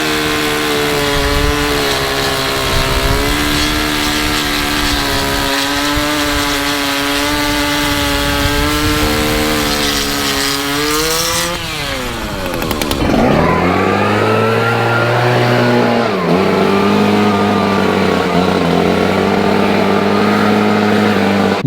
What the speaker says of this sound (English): I can take my stick edger and have at it.